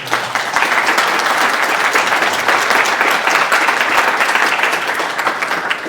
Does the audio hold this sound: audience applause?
yes